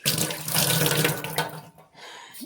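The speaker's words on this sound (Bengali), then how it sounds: "এই যে হাতটা ধুয়ে নিই" Hands are washed under a running tap, with a loud, close splashing stream of water into a sink that eases off briefly before continuing.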